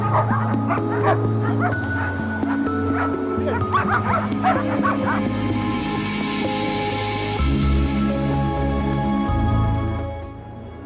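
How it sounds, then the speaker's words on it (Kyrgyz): Police dogs at a canine handlers' training session bark repeatedly in sharp yips and whimpers over the first half, close and loud, then fade into a lower mechanical hum. "Иттер бул көнүгүүлөрдү күндө кайталашат."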